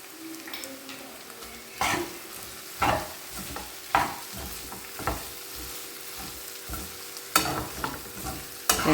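A spoon stirs chili powder and salt into mango ginger pickle frying in a pan, with a steady sizzle underneath and repeated scraping strokes against the pot at a loose, regular rhythm.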